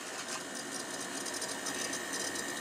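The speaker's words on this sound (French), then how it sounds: "on peut voir que le petit ventilateur là, il tourne." Small computer fan spinning inside a PC during a graphics card installation, a steady, close whirring hum with a faint high whine and no speech.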